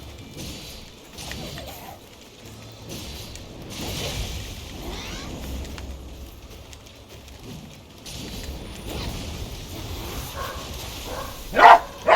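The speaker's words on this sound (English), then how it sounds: "Dog's going crazy." A dog in the game Code Vein barks in short, scattered bursts at moderate distance over background game sounds, with brief sharper peaks near the end.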